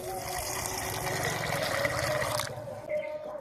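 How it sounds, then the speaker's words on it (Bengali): Water pours into a pot of soaked peas, giving a continuous splashing trickle that cuts off sharply near the end, followed by a brief quieter splash. "ভিজিয়ে রাখা ছিল সেই মটরটা এখানে দিয়ে দেব জল দিয়ে দেব"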